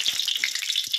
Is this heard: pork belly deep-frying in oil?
yes